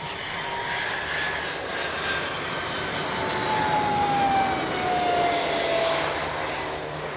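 A fixed-wing aircraft on approach to land on a runway produces a steady, broad engine roar that swells and holds at moderate loudness, with a faint descending whine running through it and no voices.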